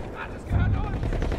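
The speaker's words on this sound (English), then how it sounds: "Wait for the enemy artillery barrage to stop firing." Artillery barrage in the Battlefield 1 video game: deep, heavy booms and rumbling blasts swell up after a brief quieter moment and keep pounding as a dense, continuous low roar of gunfire.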